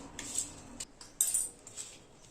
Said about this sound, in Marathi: छान आपल्याला आता मिक्स करून घ्यायचं आहे.